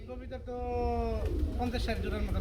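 Pigeons cooing in a large loft holding hundreds of pairs, soft repeated coos and calls close by, mixed with a voice talking over them.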